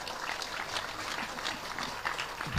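An audience at an Islamic talk by Gus Miftah applauds throughout. The clapping is a continuous, even wash from a crowd, with a thump near the end.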